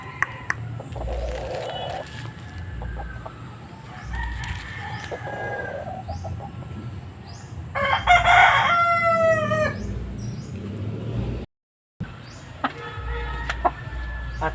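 A rooster crows loudly and nearby in a yard of gold gamefowl, one long drawn-out call standing out over faint clucking and other birds, with a few quieter crows around it.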